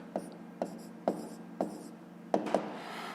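Numbers are handwritten on paper in a fifth-grade maths lesson: six short, fairly close scratching pen strokes in an uneven rhythm, with no speech.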